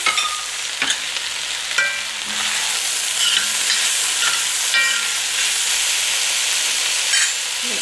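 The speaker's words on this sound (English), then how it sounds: "Mushrooms going back into the pot." Mushrooms returned to a hot pot for veggie spaghetti hiss and sizzle loudly and steadily, with occasional scraping stirs and light utensil knocks throughout.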